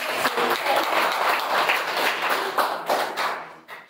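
A few people clapping during a church meeting at a prayer school, with steady close applause that thins out and fades to scattered claps at the end.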